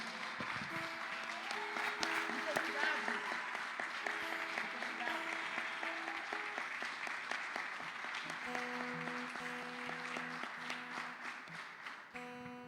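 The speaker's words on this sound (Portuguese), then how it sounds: "Dê a sua melhor salva de palmas" A church congregation applauds steadily for over twelve seconds, a dense sustained clapping with organ or keyboard notes sounding underneath.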